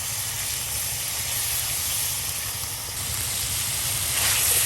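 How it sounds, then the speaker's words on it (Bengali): Onion, ginger and garlic paste frying in oil in a village kitchen, a loud continuous hiss and sizzle close up, steady throughout with a slight swell near the end. "এই যে একসাথে আপনার তেলে ভেজে নেওয়া হচ্ছে"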